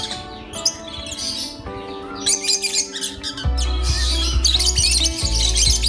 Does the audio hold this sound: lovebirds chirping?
yes